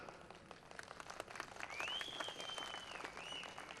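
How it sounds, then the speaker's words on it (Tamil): A large crowd at a political rally in Namakkal breaks into a faint, distant wash of applause with scattered claps, and a high whistle-like tone drifts over it partway through. "பெரிய கரகோஷம்"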